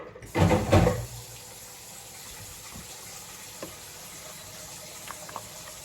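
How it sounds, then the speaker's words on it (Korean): A brief splashing gush of water runs into a cooking pot for cleaning after Korean chicken porridge, loud for under a second near the start, then fades to a faint background with small clinks. "이렇게 이제 잘 닦아지게 물 좀 받아놓고"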